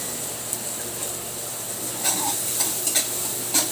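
Onions dropped into hot oil fry with a steady, loud, close sizzle, stirred in a pan with a few light scrapes and taps over the constant hiss.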